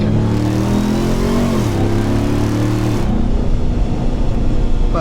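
A 2021 Ram TRX pickup engine in sport mode, a loud mid-range drone that dips and rises in pitch as it blips to match revs, continuous and close throughout.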